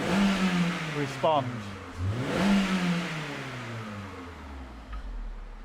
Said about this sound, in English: So I just rev it up there, and you see how quick it actually does kind of